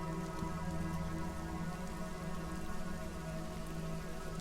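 Steady rain falls in a dense, even hiss that continues without a break; no distinct thunderclap stands out.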